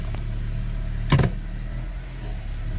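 A 2006 Honda Civic 1.8 with a transmission dual linear solenoid valve fault backs up in reverse, giving a steady low engine hum with a brief louder clunk or thump partway through.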